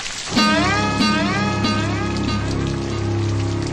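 Rain falls in a steady, close hiss throughout, with a loud tonal, voice-like sound wavering over it.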